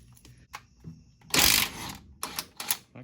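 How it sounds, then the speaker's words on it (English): Wrench work loosening the power steering gearbox bolts on a 1977 Ford F150 4x4 frame, a few sharp metallic clicks and one louder ratcheting scrape, close by with no talk. "I'm gonna take these bolts loose and see if it'll sit there."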